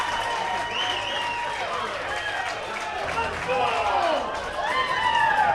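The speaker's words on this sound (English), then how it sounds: "You hear the Gillette crowd here in Sheridan" A crowd at an American Legion baseball game in Sheridan, Wyoming cheers after a home run, with sustained whoops, shouts and mixed voices swelling toward the end, loud and fairly close.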